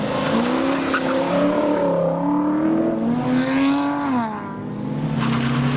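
Supercharged TVR Chimera sports car revving hard, its engine note rising and falling in sweeping pitch changes as it accelerates, loud and fairly close, with tyre noise and no talk.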